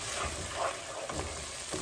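Masala with tomato ketchup sizzles steadily while it roasts in a pan, a faint, continuous frying hiss with soft stirring scrapes and no talk.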